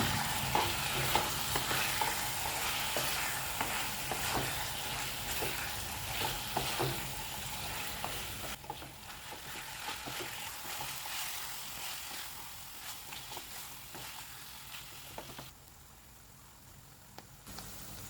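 Chicken with yogurt, cumin powder and coriander powder is stirred in a hot pan, a steady close sizzle of frying broken by frequent scraping clicks of the spoon.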